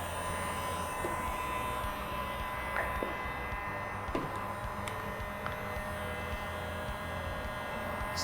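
A heat gun runs continuously with a faint, steady motor hum and airflow whirr, blowing heat into an enclosure, with a few small clicks on top.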